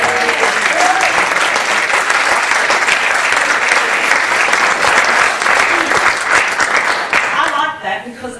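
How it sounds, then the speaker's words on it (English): Audience at a book launch breaks into loud, sustained applause, a dense wash of clapping that fills the room for about eight seconds before starting to thin out at the end, with some voices mixed in. "it should be a big round of applause. Judith Buckrich!"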